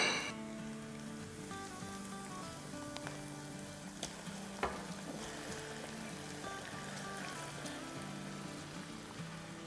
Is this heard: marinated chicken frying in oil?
yes